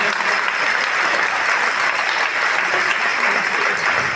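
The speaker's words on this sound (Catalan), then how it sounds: "un fort aplaudiment a les tres colles" Loud, dense applause from a crowd at a Catalan carnival gitanes gathering honouring the participating groups, an unbroken wash of clapping lasting throughout with no pauses.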